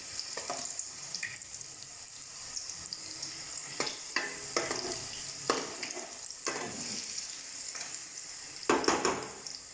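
Taro leaf rolls deep frying on a low flame, with a steady bubbling sizzle of oil, occasional clatters as the rolls are turned, and a busier burst of scraping near the end.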